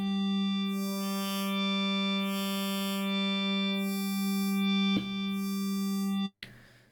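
A sustained Blofeld synthesizer wavetable tone with rich steady harmonics, its filters sweeping up and down in slow repeating waves, briefly cutting out near the end.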